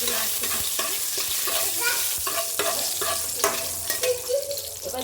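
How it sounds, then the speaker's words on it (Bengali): Bay leaf, green chilli and whole spices sizzle in hot oil for a soybean curry, a close, steady frying hiss broken by scraping stirs and a few clinks, with no talking. "দিয়ে দিচ্ছি ফোড়নটাকে এরকম করে ভাজতে থাকবে যতক্ষণ না লাল হয়"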